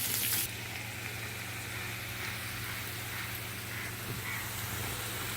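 Chopped onions roasting in a pan for a spiced potato fry, giving a steady, close, moderately loud sizzle that carries on evenly throughout with no talking.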